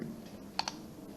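A computer mouse clicking a "next" button: two quick, light clicks close together, close and faint against a quiet room background, with no talking.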